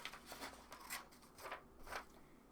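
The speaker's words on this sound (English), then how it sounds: "We're going to cut all the way around our building." Scissors cut around a paper building cutout, a slow series of crisp snipping crunches spaced about half a second apart, close and fairly quiet.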